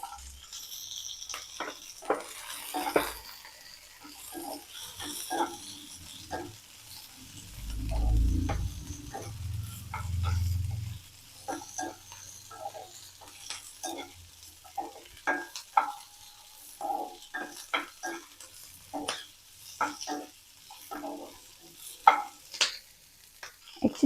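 Capsicum and cubed onion frying for a paneer capsicum gravy, with soft sizzling and a run of spoon scrapes and taps against the pan, fairly quiet and close, plus a low rumbling thump midway.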